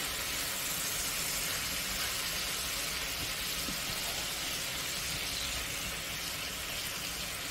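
Vegetables cooking in a covered pan let out a steady, even hiss and low simmering rumble, constant and close, with no talking.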